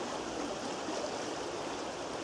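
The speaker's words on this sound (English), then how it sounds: "From here the water drains naturally through the rocks and into the stream." A stream runs over rocks in steady, close rushing water that holds an even level throughout, with no voices.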